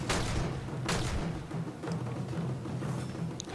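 Gunfire in the video game Warframe, a few sharp shots with dull thumping bursts at irregular intervals over a steady, noisy game backdrop.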